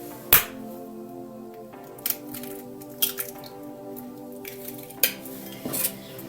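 Two eggs are lightly whisked in a bowl for a mushroom filling, with scattered metallic clinks and taps of the whisk against the bowl over a faint background, without speech.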